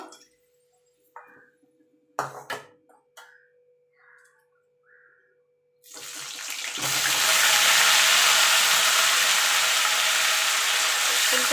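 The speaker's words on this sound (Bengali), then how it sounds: "এবার এই তেলে আমি ফুলকপিগুলো ভেজে নেব" Cauliflower pieces go into hot oil already used for frying potatoes for aloo fulkopi. A few quiet clinks and taps come first, then a loud, steady hiss of frying starts and holds to the end.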